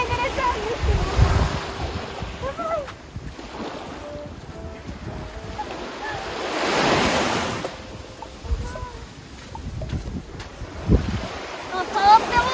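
Waves washing in and receding on a nearby shore at Miyanohama, Chichijima, swelling and fading in irregular surges with gusts of wind.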